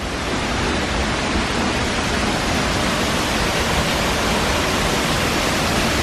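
A loud waterfall at Ferne Clyffe State Park on a winter day roars as a dense, steady broadband rush of falling water, close and continuous, with no other sounds.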